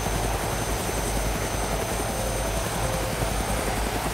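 A helicopter in the video game DayZ flies nearby with a loud, steady rotor and engine roar that stays constant throughout, with no talk over it.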